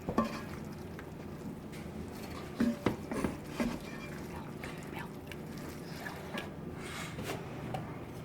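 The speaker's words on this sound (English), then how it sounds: "You don't want to squish your noodles, so you're going to fold the cheese in." Cheese being folded into cooked macaroni noodles for gourmet mac and cheese, heard up close as a steady, soft, wet stirring texture broken by a few sharper scrapes or clinks partway through, with no talking.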